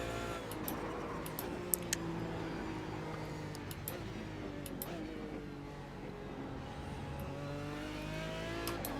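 A race car engine in a GT Challenge racing video game at Le Mans drones steadily and loudly throughout, holding a constant high revving pitch with small shifts and faint clicks on top.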